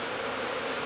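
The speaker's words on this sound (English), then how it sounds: "with this cloud of bees, these are some young bees" A cloud of young honeybees hovers just in front of their hive, making a dense, constant buzzing drone that is loud and close, with no other sounds.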